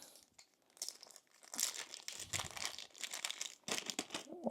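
Plastic bags crinkling and rustling close up while a deluxe board game is unboxed, irregular crackly bursts of varying loudness with no talk.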